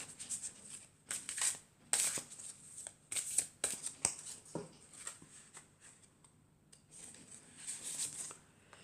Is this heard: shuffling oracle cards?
yes